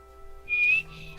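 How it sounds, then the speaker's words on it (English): A person whistles a single short, thin rising note alone, lasting about a third of a second over a faint steady background hum, loud and close. "My whistle's so bad it knocked him backwards."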